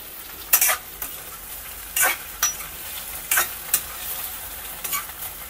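Okra frying in hot oil, stirred in several short scraping bursts against a steady soft sizzle, close and fairly quiet, with no talking.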